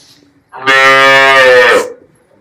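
A single loud, close cow moo, a long rich bellow lasting over a second that rises sharply and fades away, with near silence around it.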